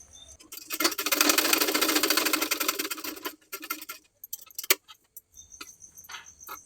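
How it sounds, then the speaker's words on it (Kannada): A sewing machine stitches the back neck of a blouse in a loud, steady rapid whir for about three seconds, followed by short, scattered clicks and bursts as the fabric is handled. "ಈ ರೀತಿ ಕರೆಕ್ಟಾಗಿ ನೆಕ್ ಹತ್ರ ಇಟ್ಕೊಂಡು ಇದನ್ನು ಸ್ಟಿಚ್ನ ಹಾಕ್ಕೊಳ್ತಾ ಇದ್ದೀನಿ."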